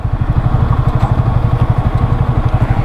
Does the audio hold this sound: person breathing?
no